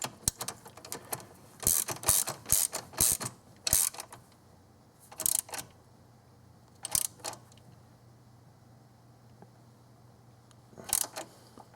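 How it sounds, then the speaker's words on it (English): A crescent wrench tightens a bolt on a cast aluminum thermostat housing during a 1997-2003 Ford water pump job, making quiet clicking, ratchet-like metal taps in short irregular clusters. "No, we just get the crescent wrench out."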